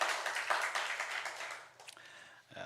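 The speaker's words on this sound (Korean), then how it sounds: "우리 하나님께 영광의 박수 올려드리겠습니다" Church congregation applauding during a Sunday worship service, a quiet burst of many hands clapping that fades over a few seconds into near silence.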